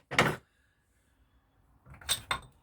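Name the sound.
rubber dead blow mallet knocking a lathe pulley shaft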